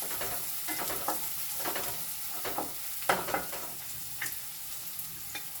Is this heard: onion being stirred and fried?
yes